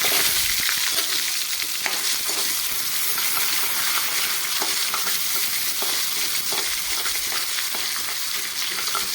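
Crushed ginger and garlic frying in oil in a handled clay pot, a loud continuous sizzle with frequent crackles and stirring scrapes close by, no talking.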